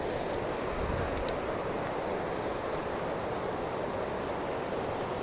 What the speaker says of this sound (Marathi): अथांग समुद्र आणि निळशार पाणी तुम्ही पाहू शकता की खूप जास्त समुद्र खवळलेला आहे